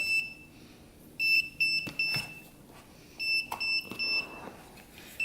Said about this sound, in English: can hear it beeping like that.